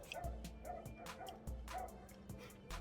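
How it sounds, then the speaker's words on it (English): Dogs fighting, with a steady run of sharp yips, barks and whimpers close together, quiet and somewhat muffled. "Dog fights."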